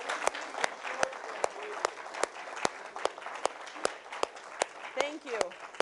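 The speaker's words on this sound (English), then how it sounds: "let's give them a round of applause." At an Honor Flight reception and ceremony at an American Legion post, a crowd applauds steadily, with a dense wash of clapping broken by sharper claps and brief voices underneath.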